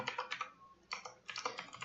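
Close, crisp keystrokes on a computer keyboard while code is typed, coming in two quick bursts of irregular clicks with a short pause between them, with no voice.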